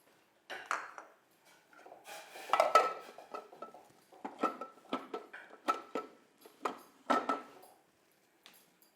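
Stirring a mixture into boiling water in a steel pot while making bisi bele bath: a run of sharp, irregular scrapes and clinks of a spoon against the pot, close and fairly loud, with no talk.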